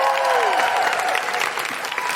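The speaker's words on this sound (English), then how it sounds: "Please put your hands together and make incredible wooing noises for Serena." A studio audience at a live podcast recording applauds steadily and cheers with whoops as a guest, a local doula, is welcomed, the clapping close, dense and continuous throughout.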